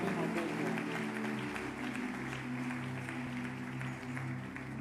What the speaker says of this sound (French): si nous pouvons acclamer très fort la parole du Seigneur